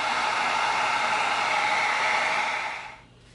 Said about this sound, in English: Let's seal it with some heat.